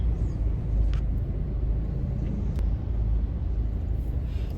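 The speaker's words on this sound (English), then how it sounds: "So now I'm stuck in loads of traffic, and I just have to wait." Steady low rumble of road traffic heard from inside a car stuck in a heavy jam, a continuous engine and tyre drone with no distinct passing events.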